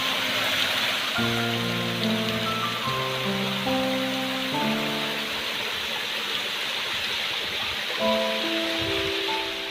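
A waterfall in Sri Lanka roars steadily throughout, with a bright, dense hiss, while soft melodic tones drift over it in the background.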